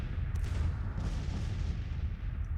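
Cannon artillery fire in a Civil War strategy video game, a dense, continuous rumble of distant booming volleys that roll into one another with no clear gaps.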